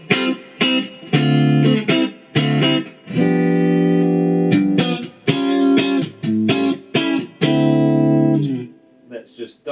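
Electric guitar played dry through an HX Stomp effects unit, loud sustained chords and short muted stabs in an uneven rhythm with brief gaps between, no amp tone added.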